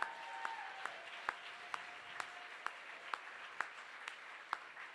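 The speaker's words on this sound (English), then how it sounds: "Everyone, please give them another round of applause." Sparse, faint clapping at a charity gala: individual claps ring out at a slow, irregular rhythm over quiet room tone, with faint tonal hum in the background.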